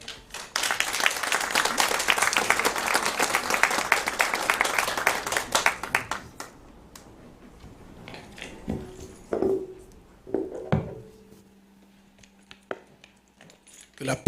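A church congregation at an evening conference claps and applauds to welcome the preacher, dense clapping for about six seconds that then breaks off into scattered claps, shuffling and a few faint voices in a quieter room.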